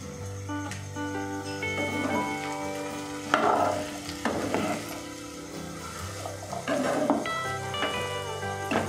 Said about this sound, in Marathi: भाजी परतून घेतली आहे मी